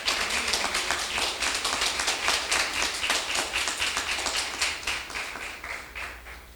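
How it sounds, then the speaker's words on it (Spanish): A church congregation claps and applauds together during a Sunday-morning worship service, a dense, steady patter of many hands that holds for several seconds before easing slightly at the end. "Dele un aplauso al Señor en esta mañana."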